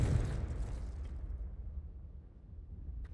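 The Confringo spell in Hogwarts Legacy sets off a single muffled explosion with a deep rumbling boom that fades out over a few seconds, with no talking.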